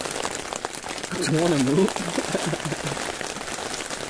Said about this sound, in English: I hate the bloody rain now